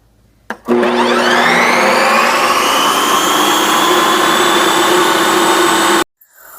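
A kitchen gadget spins ice cream with a loud, steady motorized whine, close and unbroken for about five seconds before cutting off abruptly.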